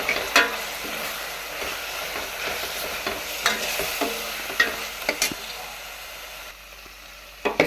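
Coriander powder stirred into sizzling masala in oil for a village-style brinjal and peanut kara kuzhambu, with steady scraping and sharp clinks of the spoon against the pan over a continuous frying hiss, up close and without talk.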